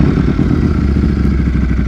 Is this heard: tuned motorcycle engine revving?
yes